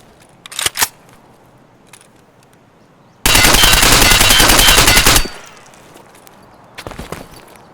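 A two-second burst of rapid automatic assault rifle fire in Escape From Tarkov, loud and continuous, framed by a few quieter clicks and handling noises before and after.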